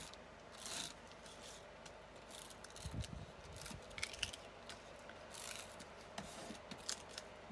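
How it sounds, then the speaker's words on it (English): Tape runner rolling adhesive onto the back of a handmade autumn card, giving faint, repeated scratchy rubbing and clicking strokes close by in a quiet room, with no talk. "I'm going to add my tape runner to the back."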